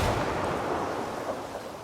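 Frag grenade going off in Ghost Recon Wildlands, a broad rumbling blast that starts loud and slowly fades over about two seconds.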